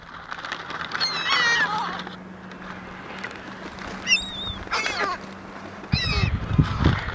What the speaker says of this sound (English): It's a plethora of seagulls.